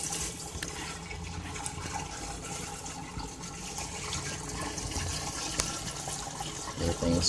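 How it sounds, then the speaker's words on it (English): Water draining from a barrel aquaponics system, a steady rushing and trickling wash that runs continuously, moderately close, swelling slightly toward the end. "Water's clear, getting ready to go through a drain cycle."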